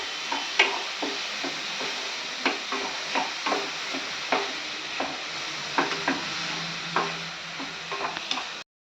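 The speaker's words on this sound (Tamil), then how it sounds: "இப்போ வெங்காயம் ஓரளவுக்கு வதங்கிடுச்சு." Onions sautéing and being stirred in a pan for mutton kolambu, with a steady soft sizzle under repeated clicking scrapes of a spoon against the pan, close and fairly quiet, with no voices.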